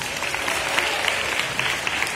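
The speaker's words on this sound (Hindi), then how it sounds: "जोर से ताली बजाइए" An audience claps loudly and steadily at a school sports prize announcement, a dense continuous patter of many hands with no talking.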